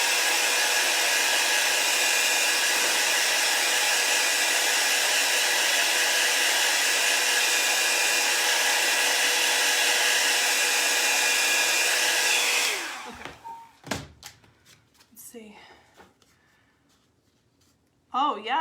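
Hair dryer blowing steadily and loudly up close on a chalk-stenciled craft piece for about twelve seconds, then cutting off into quiet handling noises.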